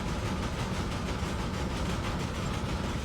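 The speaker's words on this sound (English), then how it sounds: "whenever battle armor does a swarm attack on a mech, it creates that sound of, like, banging" Repeated metallic banging from a swarm attack by battle armor on a mech in the BattleTech video game, a bugged effect that plays as a dense, continuous clattering roar, fairly quiet and without speech.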